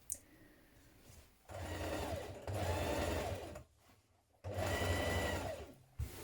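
A sewing machine stitches the welt facing of a coat in three close whirring runs of a second or two each, separated by short pauses, no speech.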